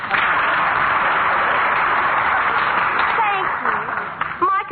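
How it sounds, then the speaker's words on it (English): A studio audience applauds for a newly elected school mayor at a student government ceremony, a dense steady wash of clapping that thins near the end as a voice begins. "You may applaud now."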